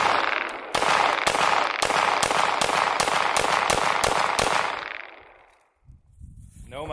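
Rapid pistol shots from a CZ SP-01 Tactical at a range, about ten sharp cracks in quick even succession, loud and close, then a brief quiet with faint sounds after.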